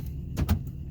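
Power door locks on a 1979 Lincoln Mark V actuate with a short pair of quick mechanical thunks close by, then fall back to a quiet cabin hum.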